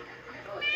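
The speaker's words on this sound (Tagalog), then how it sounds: "umiiyak na yung pusa" A cat cries out with a short, close meow in a home in the morning, under ongoing talk.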